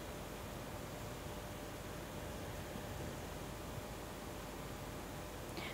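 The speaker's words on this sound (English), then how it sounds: "white noise is a aperiodic continuous sound." Steady, hissing broadband noise, even and continuous from start to finish with no breaks or changes, quiet and uniform.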